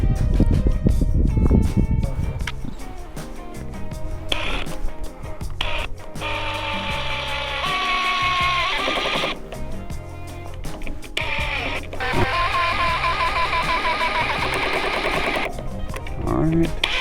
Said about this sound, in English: Go ahead and get a screw up top and a screw on each side.